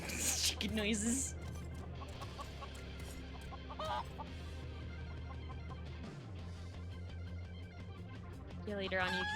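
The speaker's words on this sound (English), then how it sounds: "Chicken noises." Chickens clucking in Final Fantasy XIV, a steady run of near, moderately loud clucks over game music, with people talking throughout.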